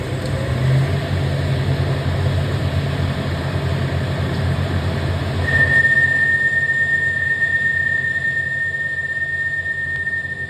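A CNC lathe's boring bar cuts an internal trapezoidal thread in an egg-shaped cast bore, giving a loud, steady high-pitched whine over constant machine rumble, with the tone stepping up to a sharper sustained note partway through.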